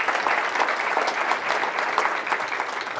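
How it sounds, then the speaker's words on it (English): Steady applause from a summit audience fills the room at moderate volume, a dense even patter of many hands with no voices. "let's give Suzanne a round of applause"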